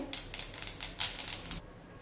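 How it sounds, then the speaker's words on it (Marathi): Sesame seeds roast in a kadhai for til ladoos, giving a close, steady run of quick dry crackles and ticks over about two seconds, with no talk. "हे तडतड होतात आहे, म्हणजे आपले तीळ खूप चांगले भाजलेले आहेत"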